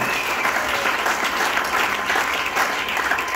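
A church congregation in Matadi applauds, with steady, dense clapping from a large crowd sustained throughout, bright and even with no pauses.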